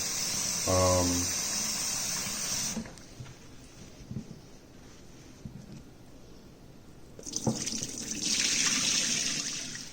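Running tap water pours into a bowl as rice is rinsed, a steady hiss that stops midway, leaving quieter clinks and handling, then resumes strongly; a brief voice is heard near the start.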